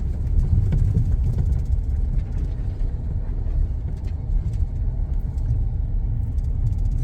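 A car rolls along a road through a residential construction site with newly built houses, its low steady rumble of engine and tyre noise continuous and fairly loud throughout, with no talking.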